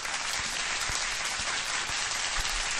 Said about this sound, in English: Round of applause for the chat.